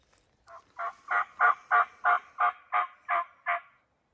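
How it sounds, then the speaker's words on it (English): A series of about ten rapid gobbles from wild turkeys at a distance in Nebraska, evenly spaced and rising then easing in loudness, with no talk. "We heard some birds gobbling over here"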